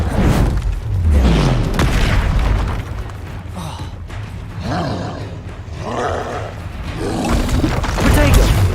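Booming magical blast of the Confringo fire spell in the Hogwarts Legacy video game, fought against a troll, with roaring bursts and a rumbling low end repeating through the clip amid loud game combat noise.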